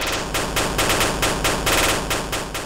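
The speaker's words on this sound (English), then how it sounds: "this noisy FM percussion sound source" A noisy FM percussion voice from a Eurorack synthesizer fires in rapid, loud repeated bursts, a dense rattling stream with a regular pulse, heard alone.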